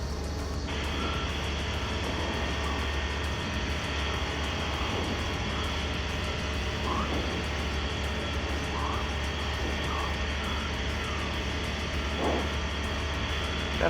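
A small training airplane's piston engine drones steadily and loudly from inside the cockpit during a go-around, a constant broadband roar with a low hum and faint intermittent tones beneath.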